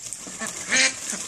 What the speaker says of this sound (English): This is called a duck party, everybody.